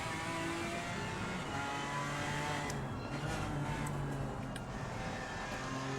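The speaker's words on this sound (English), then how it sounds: "Love the sound of that BMW chugging away." A BMW race car engine in the racing video game Assetto Corsa Competizione drones continuously at high revs at Zandvoort, a steady buzzing roar with faint tire noise, loud and unbroken throughout.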